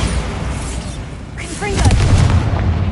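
A Bombarda spell blast in the video game Hogwarts Legacy: one booming explosion with a rumbling tail and clattering debris, heard under a voice talking.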